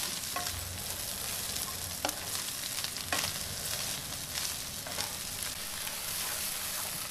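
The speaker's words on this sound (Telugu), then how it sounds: "సో దీన్ని బాగా కలుపుకుందాం, నూడిల్స్ని ఎగ్ని" Boiled noodles tossed with egg in a hot pan give a steady close sizzle, with soft scraping stir strokes now and then and no voices throughout.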